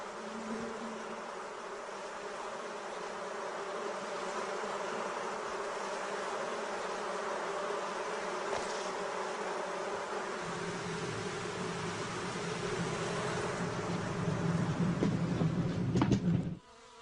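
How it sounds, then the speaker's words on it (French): A honeybee swarm settling into an old tree stump, a steady, dense buzzing drone that holds evenly for the whole stretch and swells louder just before it cuts off. "l'essaim a finalement élu domicile dans une vieille souche"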